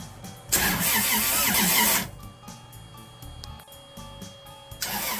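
A boat's marine engine with a new exhaust elbow cranks loudly for over a second, then catches and settles into a steady, rumbling idle with some rattling, and cranks again near the end.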